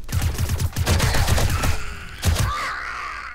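Gunfire in the zombie survival game 7 Days to Die, a rapid burst of close, heavy shots followed by a pause and two more shots, with a growl-like game noise trailing at the end.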